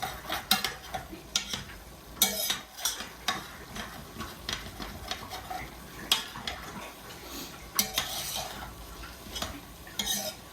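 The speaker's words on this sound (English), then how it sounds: "Give this a stir." Vegetables for a beef stew are stirred in a hot pan, a spoon scraping the bottom in repeated irregular strokes over a soft sizzle, close and clear with no talking.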